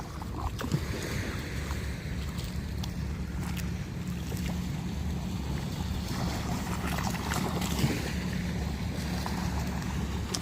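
Ocean surf rolls continuously onto New Smyrna Beach at sunrise, a steady wash of breaking waves with wind noise, heard alone without voices.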